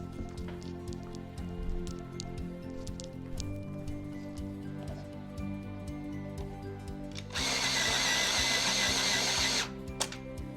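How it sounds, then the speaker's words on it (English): An F-Mat electric pencil sharpener grinds a Staedtler Noris school pencil in a loud burst lasting a couple of seconds, preceded by faint clicks and handling sounds. "Had no issues sharpening it in my F-Mat electric pencil sharpener."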